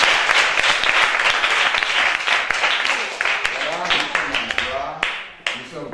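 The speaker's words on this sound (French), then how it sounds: "sous vos acclamations" Audience applause at a children's Christmas celebration held by a foundation, a loud, dense wash of clapping with sharper individual claps near the end and voices in the crowd.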